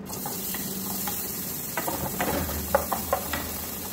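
Onion sizzling in a little cooking oil in a pan for chicken afritada, a steady close frying hiss with a few soft clicks and stirring taps on top.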